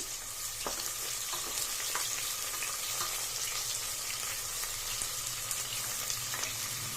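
Sliced onions frying in oil for an egg biryani, a close, steady sizzle with occasional stirring scrapes and small crackles, no one talking.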